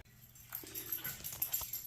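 A pet dog whimpering softly during a spring outing, faint high whines in short uneven bursts, fairly close, with no talking.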